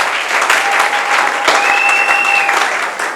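A church congregation claps together in sustained, even applause filling the room, with a held tone ringing faintly above the crowd.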